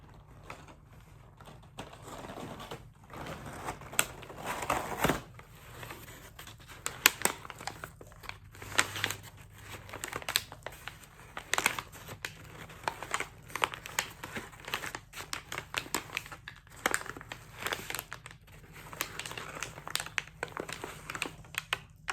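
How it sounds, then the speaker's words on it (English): Crinkly packing paper unwrapped during a press unboxing, with steady rustling and crackling broken by sharper crunches and short pauses, close and fairly loud, with no voices. "We've got some crinkly paper coming up. I imagine it will be a strong crinkle sound."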